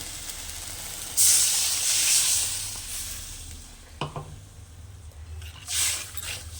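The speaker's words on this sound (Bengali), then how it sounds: "এবার দিয়ে দেব জল" Water goes into a spice paste with turmeric frying in a pan, setting off a sudden loud, close sizzling hiss that slowly fades. Softer bursts of sizzle and stirring follow.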